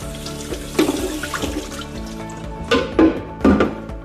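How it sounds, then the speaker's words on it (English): Hot water runs from a tap to rinse a micro honey harvester, a continuous splashing stream broken by several louder clatters and splashes, close by, with no talking. "My last step, I always like to rinse it with some hot water."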